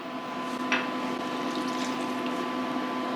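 Vinegar is poured into homemade hot sauce made with hot peppers and water, a steady liquid gurgle and fill sound under a constant hum, with a brief clink near the start.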